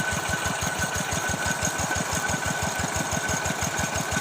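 A tractor engine drives a water pump draining a fish pond, chugging in a steady, fast, even knock with no break, loud and close, and no voices over it.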